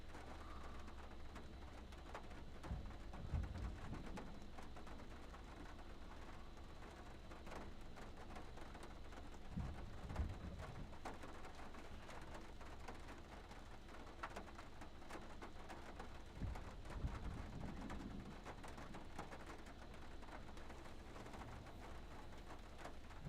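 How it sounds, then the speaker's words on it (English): Rain falls steadily during a North Texas storm, a faint continuous hiss with a few dull thumps and low rumbles, distant and quiet without voices. "raining pretty hard"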